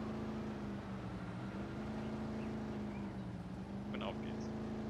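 A tractor engine idles with a steady low drone in Farming Simulator 19, the start-up hum running continuously at moderate loudness with a brief higher whine near the end.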